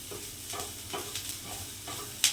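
Bottle gourd peels fry in a pan until reddish, a soft, fairly faint sizzle with a few gentle stirring scrapes and a sharper clink right at the end.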